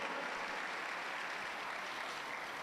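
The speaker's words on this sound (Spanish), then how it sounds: "Dale un aplauso al Señor" A church congregation applauds during a worship service, a steady, dense wash of clapping hands that fills the room evenly from start to finish with no voices rising above it.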